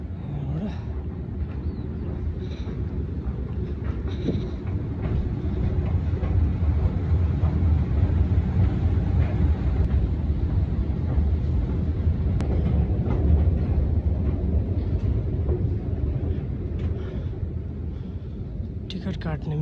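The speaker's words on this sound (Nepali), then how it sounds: "मैले लिने ट्रेन चाहिँ यो U2 हो। U2 भनेको सबवे उबान भन्छ।" Vienna U2 subway train at a station, a steady low rumble and hum of the train that swells and holds through the middle, with a person talking over it.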